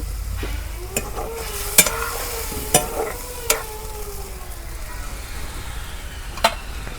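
Potatoes sautéing in a pan for egg curry give a continuous close sizzle, with a few sharp spoon knocks against the pan and a low background hum, no voices.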